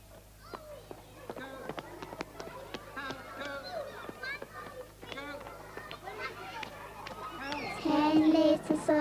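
Flock of geese honking in a noisy chorus of overlapping calls, steady and moderately close, growing louder and busier near the end.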